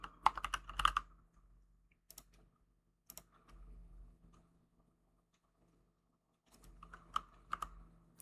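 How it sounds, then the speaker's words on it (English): Someone types on a computer keyboard in a quiet room, with bursts of rapid keystrokes separated by pauses and a few lighter isolated clicks. "I'm typing on the wrong screen."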